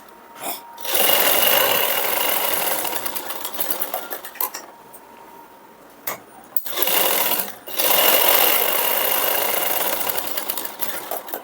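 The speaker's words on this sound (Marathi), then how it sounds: "आता आपण शिलाई मारून घेऊया" A sewing machine stitches a princess-cut blouse in bursts of loud, fast whirring, with brief clicks and quiet gaps between runs and a long final stretch of steady stitching.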